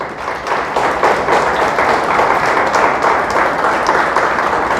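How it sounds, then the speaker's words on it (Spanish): Applause from a church congregation, a dense steady clapping that fills the space for about five seconds without pause. "Le damos un aplauso al Señor."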